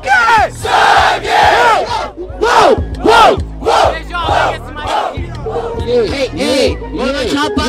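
A rap battle audience at the Batalha da Aldeia in Barueri, Brazil, shouting a loud rhythmic call-and-response chant in unison, with repeated strong bursts and a beat pulsing underneath.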